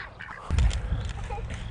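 Ducks quack a few times close by, a short burst of calls over low rustling background noise.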